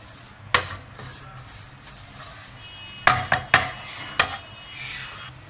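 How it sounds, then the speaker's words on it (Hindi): Flour fries in melted butter in a pan, a soft steady sizzle with a spoon stirring and scraping, plus several sharp clinks and knocks against the metal, close by. "मैदे को इसी तरह इसमें बटर में फ्राई करना है"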